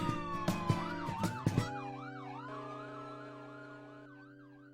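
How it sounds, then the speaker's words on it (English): A wailing police siren sweeps up and down, loud at first with a few sharp knocks over it, then continuing steadily and slowly fading. "I hear the police sirens"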